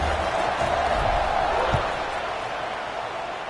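Stadium crowd roar at a Pittsburgh vs SDSU college football kickoff, a broad steady wash of cheering that swells slightly then eases, with no distinct voices on top.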